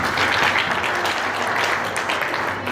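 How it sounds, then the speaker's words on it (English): An audience applauds the parents at an event honoring women and girls, a steady wash of clapping from a crowd, moderately loud and continuous for a few seconds. "Can we clap for them?"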